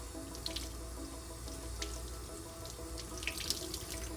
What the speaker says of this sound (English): I'm going to let this water run really quickly